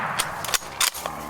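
Sharp gunshot-like cracks during a hunting safari, several brief impulsive bangs in quick succession, fairly faint and distant over a steady background hiss.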